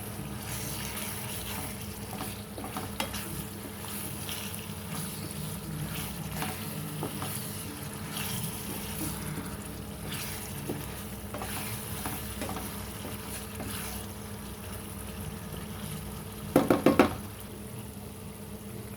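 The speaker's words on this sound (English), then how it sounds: "just give it a good stir" Eggplant sauce with beef sizzles steadily in a pan over reduced heat, a constant low frying hiss, with a brief cluster of spoon knocks against the pan near the end.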